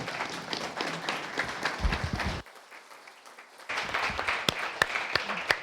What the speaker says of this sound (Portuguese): Mais palmas para o nosso colega vereador.